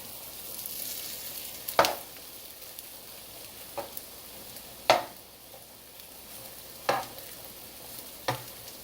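Vegan chicken and sausage crisping in butter in a pan, a soft continuous sizzle broken every second or two by sharp scraping stirs of a utensil, no talking.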